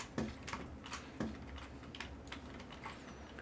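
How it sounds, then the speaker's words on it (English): A loud computer keyboard clacks at a gaming desk during a Vintage Story stream, with scattered sharp keystrokes and a couple of heavier thumps over a low room hum, close up and no talking. "My keyboard is very loud sometimes."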